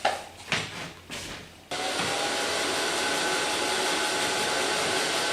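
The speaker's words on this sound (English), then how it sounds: "So I take my blow dryer of Kione and blow dry this hair with my fingers." A few short bursts of airflow start and stop, then a hair dryer runs continuously at full blast drying short pixie-cut hair, a loud steady whooshing roar with no talking.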